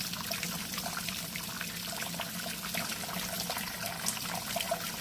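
Water trickles steadily and softly from a tap, a light continuous dribble with no voices.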